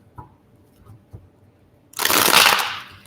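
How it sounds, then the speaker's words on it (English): Hard riffle shuffle of a tarot card deck, a dense burst of flapping card noise in the last second after a few soft handling taps, close and fairly loud. "Gonna hard shuffle."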